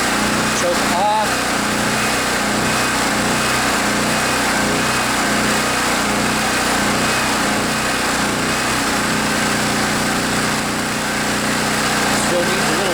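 A Generac Centurion 3250 portable generator engine runs steadily and loudly outdoors in the cold, its tone rising and falling in a rhythmic surge, with a voice speaking briefly over it.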